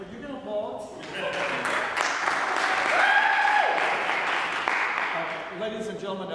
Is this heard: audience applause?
yes